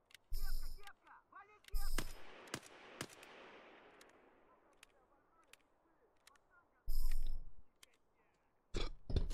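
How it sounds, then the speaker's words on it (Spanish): Scav gunshots in Escape from Tarkov ring out as loud, sharp bursts at irregular intervals, some in quick pairs, with fainter distant shots and a long fading echo between them. "El scav disparó"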